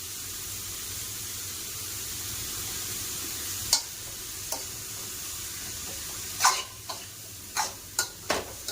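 Curry leaves dropped into hot oil in a pan for a quick home-cooked lunch, giving a steady soft sizzle with several short crackling bursts toward the end, close by and moderately quiet.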